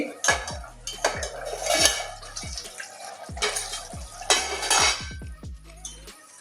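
Pointed gourd and bhola fish curry lightly stirred in a metal pan, with clusters of sharp metallic clinks and scrapes from a utensil against the pan arriving in uneven bursts and short pauses between.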